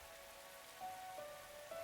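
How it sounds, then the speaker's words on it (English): Steady rain pelting a rooftop in a video game scene, a soft continuous patter with faint tonal game sounds over it and no voices. "Raindrops were pelting the rooftop all around me, producing a relentless rhythmic beat."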